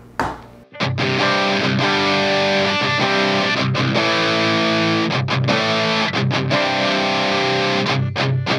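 Electric guitar run through a Digitech DF-7 Distortion Factory pedal, loud, thick and saturated, with sustained distorted chords played continuously and a few brief choppy breaks between phrases, with no talking.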